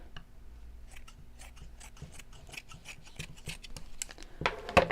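Scissors snip through folded fabric in a sewing session, a close series of quick crisp cuts in steady rhythm, ending with a louder rustle and clack as the fabric is handled.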